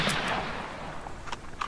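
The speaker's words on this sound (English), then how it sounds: "What are you shooting at?" Gunfire in the survival video game DayZ: a short burst of distant, echoing shots, one at the start and faint cracks near the end, with no talking.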